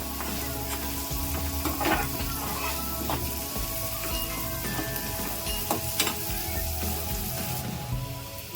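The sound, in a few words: onion and garlic frying in pan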